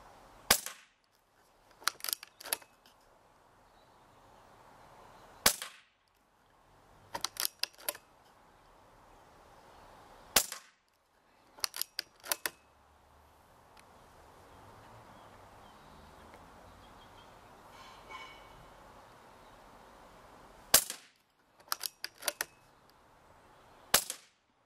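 A BSA R10 carbine air rifle fitted with a homemade silencer fires a series of sharp, clipped shots, single and in quick pairs or triplets, spaced over quiet outdoor background.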